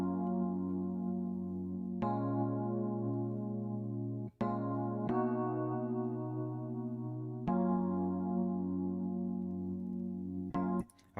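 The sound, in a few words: chord progression of a beat played alone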